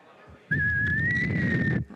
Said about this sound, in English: I don't know, I can't really whistle.